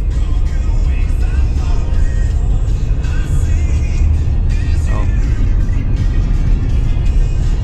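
A 2023 Toyota Highlander SUV engine runs with a steady, close rumble that holds even and loud throughout, with no clear revving.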